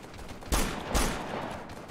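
Machine-gun fire in the military shooter Operation Flashpoint: Dragon Rising, heard as two short, sharp bursts about half a second apart, the second trailing off into a low rumble, with no voices.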